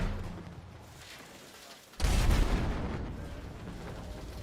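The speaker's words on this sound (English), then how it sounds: "Airstrike coming. I can call an airstrike on them." A distant airstrike in a war video game, with a heavy boom landing about halfway through and a rumbling tail that fades slowly over a low background.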